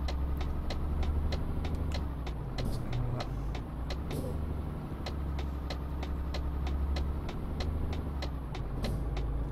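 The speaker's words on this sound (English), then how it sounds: "It sounds beautiful, this truck." A Mercedes-Benz Actros truck in Euro Truck Simulator 2, driving in Scandinavia, runs with a steady low engine drone while its indicator ticks rapidly and evenly throughout, close and continuous.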